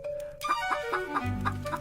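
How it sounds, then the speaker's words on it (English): A cartoon chicken in an animated fantasy film clucks in a series of short, bright, evenly spaced calls, close and clear, with no voices over it. "Come on, my pretty chicken. Give me a golden egg."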